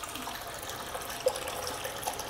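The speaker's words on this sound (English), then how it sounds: "Now we got a full band of water going across there." Steady, soft wash of water flowing in a sheet across a gold dust concentrating table, a continuous hiss with no talk over it.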